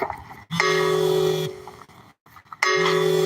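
A phone rings with two bright electronic tone bursts, each about a second long and separated by a short pause, close and clear with no talking.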